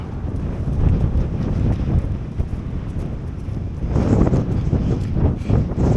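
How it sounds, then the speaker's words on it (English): Strong gusty wind from an arriving cold front buffets the microphone with loud, roaring rumble, swelling and easing, growing fiercer toward the end. "Well, the cold front is here. Obviously, whoa, got some really strong winds"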